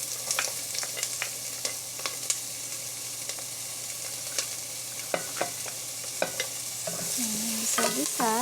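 Onion and garlic sautéing in a pan give a soft, steady sizzle, broken by sharp ticks and scrapes of stirring that grow busier toward the end.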